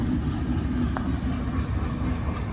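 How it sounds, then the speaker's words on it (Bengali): Low, continuous rumbling of a train rolling past nearby, steady and heavy with no voices. "ট্রেন যাচ্ছে ও দারুণ লাগছে দারুণ"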